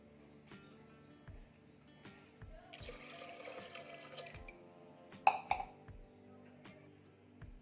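Water poured into a pressure cooker of drumstick lentil curry (amti), a splashing gush in the middle amid small clinks and drips, with a brief louder clatter near the end; quiet kitchen setting, no talk.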